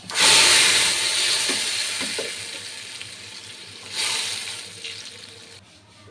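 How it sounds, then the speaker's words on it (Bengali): Whole spices and tempering hit fried onions in a hot pan for Bengali dal, giving a loud, steady sizzle that flares again near the end, with no talking. "পেঁয়াজটা আমার ভাজা হয়ে গেছে এখন আমি দিয়ে দিব সম্বর"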